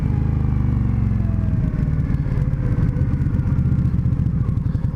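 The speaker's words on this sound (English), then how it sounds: "I just use the engine to slow down the bike" A motorcycle engine rumbles loudly and close as the rider slows the bike with engine braking, a throbbing low drone that pulses unevenly with no braking squeal and no voices.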